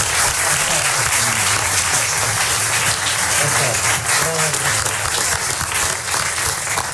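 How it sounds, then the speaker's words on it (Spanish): A conference crowd gives sustained, dense applause for a maestro. The clapping is loud and steady throughout, with faint voices underneath. "Les quiero pedir a todos un aplauso para él y para ustedes también por estar aquí con nosotros"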